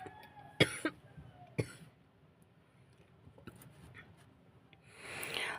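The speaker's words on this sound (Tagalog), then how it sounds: "makontrol yung pag-ubo ko" Two or three sharp coughs close by early on from an itchy throat, then a quiet stretch with faint rustling and a soft breathy throat noise at the end.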